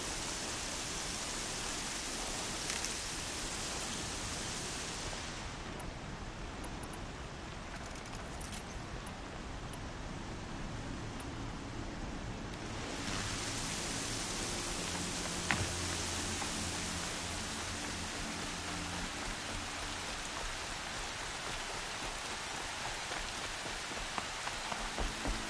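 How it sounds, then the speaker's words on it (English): Heavy rain pours down in Horizon Zero Dawn, a dense, unbroken downpour hissing steadily for the whole stretch with no speech. "There's heavy rain."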